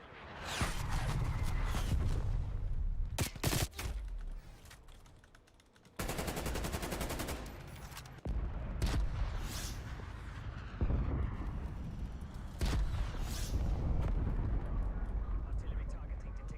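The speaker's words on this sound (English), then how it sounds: "Incoming artillery." Incoming artillery strike in Call of Duty, heavy booming impacts and rattling bursts of gunfire in loud waves, with rumbling blasts and a synthetic warning voice over the din.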